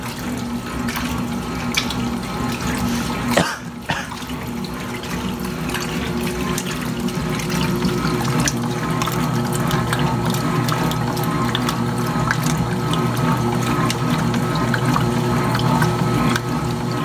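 A 1980s Kenmore laundry center washing machine fills with water for a rinse, giving a steady rushing inflow over a low mechanical hum, with a brief clunk near the start.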